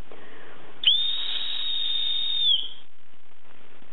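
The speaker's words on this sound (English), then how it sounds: "But it is a very good whistle." A Coghlan's survival kit whistle gives one long, loud, shrill steady blast lasting nearly two seconds, sharp at the start and tapering at the end, heard alone.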